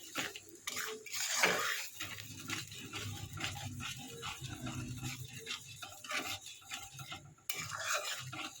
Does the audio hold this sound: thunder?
no